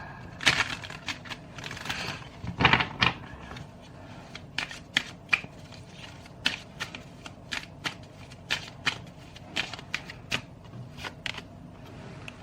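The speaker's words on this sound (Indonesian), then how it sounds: "Aku shuffle dulu ya kartunya." Tarot cards being shuffled by hand, a long run of crisp riffles and flicks, with a dense burst near the start and then steady, evenly spaced card snaps, close and moderately quiet with no talking.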